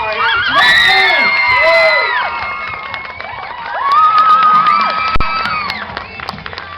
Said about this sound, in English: Please, go crazy, go wild, go absolutely nuts, stand up, clap, stamp your feet, scream.